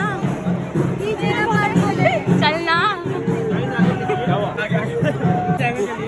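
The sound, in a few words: dense crowd at Durga Puja night out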